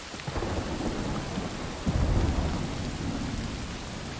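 Steady rain falling with a low rumble of thunder rising midway in the Western stealth video game Desperados 3, a constant wash of downpour, fairly loud and alone with no voices.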